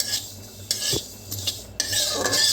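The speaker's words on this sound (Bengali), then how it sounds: "এবার কালো জিরেটা ভালো করে ভেজে নেব, শুধু কড়াতেই ভাজবো।" Black cumin seeds dry-roasting in a kadai for a hilsa recipe: a few bursts of scraping and stirring against the pan, with metallic clinks and a faint sizzle between strokes, close and clear with no talking.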